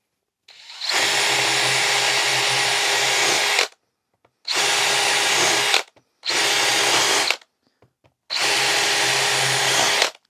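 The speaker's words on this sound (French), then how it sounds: "vraiment un perçage super rapide, très efficace, vraiment sans difficulté sur ce type de matériau" DeWalt DCD791 cordless drill-driver running at maximum speed with the clutch disabled for full torque, boring through material in four loud, steady high-pitched whines separated by short pauses, with no voices.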